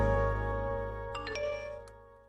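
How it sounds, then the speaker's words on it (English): A phone plays a short text message notification chime, a few bright tinkling notes over a sustained musical tone that fades out, with no one speaking. "Text from Amber"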